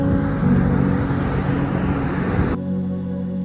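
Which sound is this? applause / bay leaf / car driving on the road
car driving on the road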